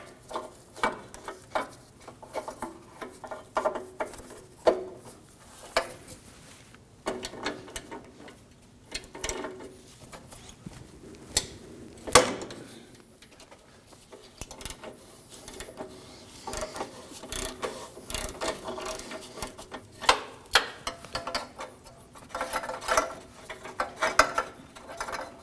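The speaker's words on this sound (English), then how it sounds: "To remove our O2 sensor from the catalytic converter, we're going to be using an O2 sensor socket." A ratchet with a 22mm O2 sensor socket works a downstream O2 sensor loose from the catalytic converter of a 2013-2015 Subaru Crosstrek Hybrid, with repeated clicking ratchet strokes and metallic scraping in irregular bursts, close up and without talk.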